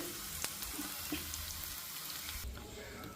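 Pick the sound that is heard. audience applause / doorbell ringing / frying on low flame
frying on low flame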